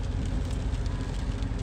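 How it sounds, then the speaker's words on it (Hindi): Heavy rain pours steadily onto a market street, a dense, even hiss that stays loud and close throughout with no break and no voices. "भाई बारिश की स्पीड क्या बढ़ गई ना"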